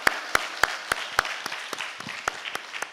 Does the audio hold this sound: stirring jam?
no